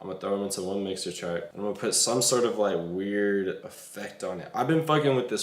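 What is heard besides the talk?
No everyday noises stand out.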